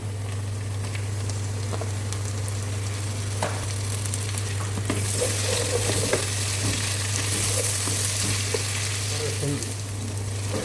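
Ginger garlic paste frying among browned onions in a pan for a chicken gizzard curry, a steady broadband sizzle holding for the whole stretch, growing a bit louder partway through, with a constant low hum under it and no talk.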